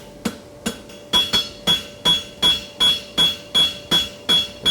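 A cross peen hammer strikes a horseshoe on the anvil in steady, evenly spaced blows, about ten bright metallic clangs, each ringing briefly, close and loud with no talking.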